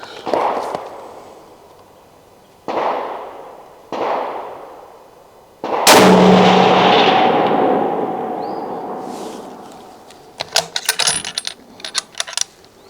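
Smith & Wesson 1500 .30-06 bolt-action rifle fired outdoors, several sharp loud shots with long decaying echoes, the last blast the biggest, followed by rattling clicks of the bolt being worked.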